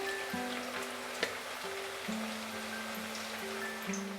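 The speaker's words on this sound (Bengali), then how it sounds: "তেলটা খুব ভালো মতো গরম হয়ে গেলে আঁচটাকে মিডিয়ামে রেখে আমরা এই নুডল র্যাপগুলোকে তেলের মধ্যে ছেড়ে দিলাম" Chicken noodle wraps frying in hot oil over medium heat, giving a steady, close crackling sizzle with soft bubbling throughout, no voices.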